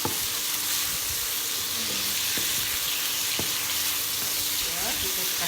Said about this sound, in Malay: Ya, kita goreng sampai ayam setengah masak ya.